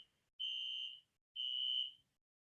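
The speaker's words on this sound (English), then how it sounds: "it sounds like the fire alarm is going off." A university building's fire alarm sounds two long, loud, steady electronic tones, each about half a second, separated by a short gap, with no voices present.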